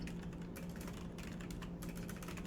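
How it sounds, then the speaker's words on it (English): Quiet, steady tapping on a computer keyboard, a continuous patter of keystrokes over a low background hum. "I'm typing as hard as I can."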